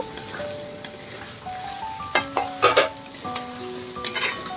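Potato and poppy seed paste fries in a pan over a raised gas flame, producing a steady sizzle. Repeated scraping strokes from a spatula stir it, and soft musical tones play in the background.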